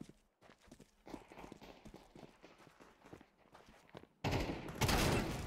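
Footsteps patter quickly through Counter-Strike 2, then a loud close Nova shotgun blast bursts out near the end, followed by a second heavy roar.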